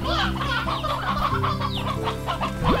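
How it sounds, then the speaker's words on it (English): Chickens in the Slime Rancher video game cluck over and over in a busy, close flock, with musical tones running underneath throughout. "That's a lot of chickens"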